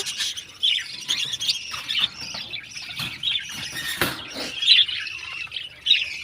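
A frightened duck squawking, a series of short sharp harsh calls repeated at irregular intervals over several seconds, fairly close, with faint background rustle and no talk.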